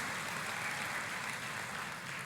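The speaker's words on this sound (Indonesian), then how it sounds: "Tepuk tangannya boleh yang paling meriah buat Tuhan kita." Church congregation clapping for God during a worship service, a dense, steady wash of applause held at a moderate level with no voices over it.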